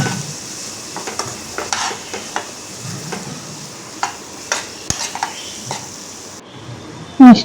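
Potato, beetroot and carrot pieces sizzle in a frying pan while a utensil stirs them with repeated scraping strokes, ending in a sharp clatter.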